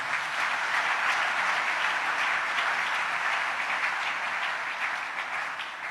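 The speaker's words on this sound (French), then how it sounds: "Acclamons le Seigneur." A church congregation applauds during a sermon, a dense, even wash of many hands clapping together that holds steady throughout and eases slightly at the end.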